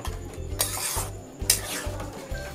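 A spoon scrapes and clinks against a pan while egg tadka is stirred together with rajma, in short repeated strokes with faint sizzling between them.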